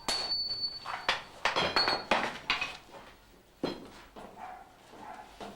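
Hammer blows on a hot steel block being drawn out while forging a katana, sharp ringing strikes in uneven bursts, loud and close with clinking metallic overtones between hits.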